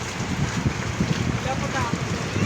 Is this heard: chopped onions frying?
no